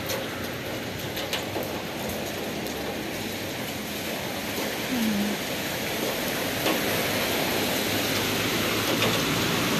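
Steady rain falling, a continuous hiss and patter that stays even throughout with a faint low rumble underneath.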